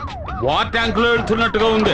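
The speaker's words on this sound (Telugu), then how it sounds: "ఏంటి ఆ సౌండ్? సైరన్ సౌండ్ అండి." A car siren in a Telugu movie scene wails with rising and falling sweeps, loud and close, mixed with someone talking over it throughout.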